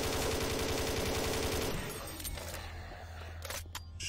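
Shotgun fire in a modded Doom 3, a dense burst of rapid blasts and clatter that abruptly cuts off, followed by a low steady hum and a few sharp metallic clicks near the end.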